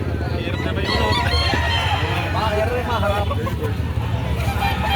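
Gilmore Hatch gamefowl rooster about two years old crowing at a poultry market in Padre Garcia, Batangas, a mid-distance crow amid clucking fowl, crowd babble and passing cars, with people talking nearby.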